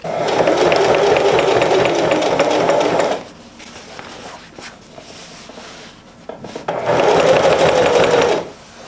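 A sewing machine stitches vinyl bag straps in two loud sustained runs of rapid needle clatter, separated by a quieter pause with small handling noises.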